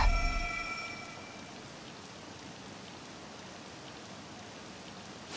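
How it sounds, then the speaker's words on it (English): Steady rain falling in the video game Persona 5 Royal, a soft, even hiss that holds at a constant low level for the whole stretch, with a brief brighter tonal burst at the very start. "This rain ain't too bad."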